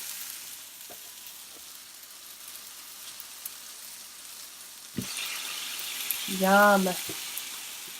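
Smash burger patties sizzle on a hot griddle, a steady frying hiss that swells at the flip, with a sharp scrape and clatter, and a brief spoken word over it.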